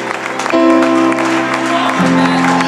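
A church congregation applauds and acclaims together with loud, sustained clapping and cheering after a preacher's call, steady throughout with voices and a tonal hum beneath.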